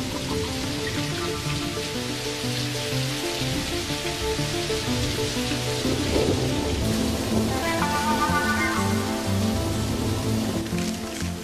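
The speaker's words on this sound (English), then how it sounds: "A rainstorm just makes us wet." Rain from a rainstorm falls steadily and densely, a continuous hiss of drops spattering on surfaces that stays even throughout, with no voices.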